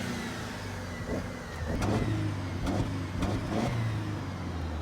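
A Mercedes C250 AMG engine in sport mode idles, then blips and revs in several short bursts, fairly close by, with a low steady rumble underneath.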